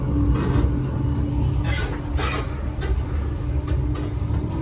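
Inside a rattly, squeaky Mark 3 railway coach in a Chiltern Railways locomotive-hauled set, a steady loud rumble of the wheels on track with a few brief squeaks and rattles breaking through.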